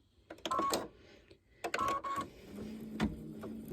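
An embroidery machine stitches clear vinyl onto a fleece snowman in short bursts of rapid mechanical whirring and tapping, separated by quiet pauses. A steadier hum follows near the end. The machine is close by and fairly quiet.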